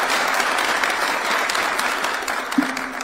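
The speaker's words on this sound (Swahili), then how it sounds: "Tumpigeni makofi" Sustained applause at a State House reception for the Nairobi United football team, broad steady clapping from a crowd throughout, with a brief tonal blip near the end.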